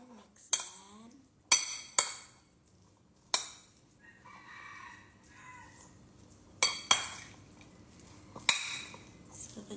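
Sweetcorn salad with red pepper is mixed in a bowl, with sharp utensil clinks and scrapes coming in separate bursts between quieter rustling.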